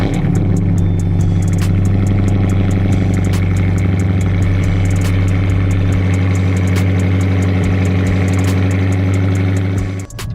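A 2017 Chrysler 300S with a 5.7-liter Hemi V8 idles steadily up close, a deep, even rumble with a low mechanical hum, holding nearly constant for about ten seconds before dipping slightly at the very end.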